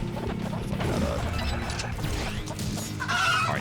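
Chickens clucking and squawking in the video game RPM Road Punk Mayhem, several fowl calls mixed with crashes and thumps of game action, busy and close with no speech.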